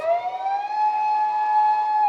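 An ambulance siren wails in a steady, sustained tone with strong harmonics, loud and fairly close, heard alone for about two seconds on a street in Uganda.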